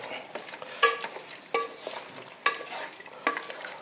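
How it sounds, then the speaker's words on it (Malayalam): Chicken curry being stirred in a pan after water is added for the gravy, with a steady low sizzle and four distinct scraping strokes of the spoon against the pan at a regular pace, close by and fairly quiet, with no talking. "എന്നിട്ടൊന്ന് ഇളക്കി യോജിപ്പിക്കുക"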